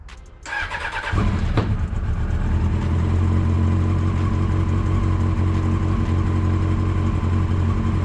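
A truck engine on a cold day cranks briefly, catches after about a second and settles into a loud, steady, low rumbling idle close by, with no voices.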